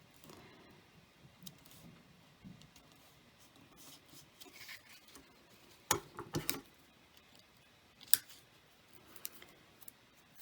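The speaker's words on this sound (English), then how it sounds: "I'm just going to snip that off so I have a nice straight edge." Scissors snip the angled edge off a piece of card for a shaker card, giving a few sharp, close cuts amid quiet handling, with the loudest snips near the middle and one more shortly after.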